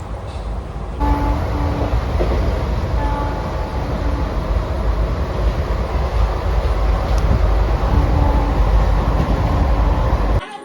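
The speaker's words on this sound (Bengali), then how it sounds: "তো দেড় ঘন্টা বাসে আসার পর আমরা এখন ট্রেন ধরে নিয়েছি" Passengers ride aboard a train, where a steady, loud rumble of wheels and carriage noise with wind-like hiss fills the whole stretch without pause.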